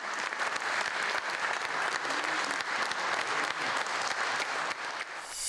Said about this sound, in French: longuement applaudi par l'Assemblée